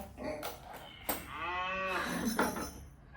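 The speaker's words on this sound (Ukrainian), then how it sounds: "може бути варіант запису на диктофон е, звуку корови" A recorded cow moo played back from a voice recorder for a children's listening exercise, one long drawn-out lowing call with a rising harmonic tone, moderately quiet and heard alone.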